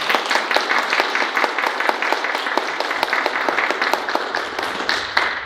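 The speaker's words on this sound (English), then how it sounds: "So let's give them a round of applause for showing up" Steady applause from an audience at a local candidates' meeting, dense clapping sustained for several seconds at even loudness, fairly close.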